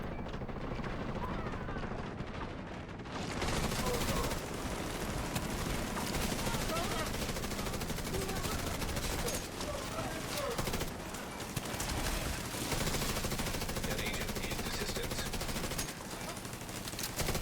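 An automated turret firing in The Division 2, a sustained rattle of rapid shots mixed with dense game noise, continuing almost without pause for the whole stretch.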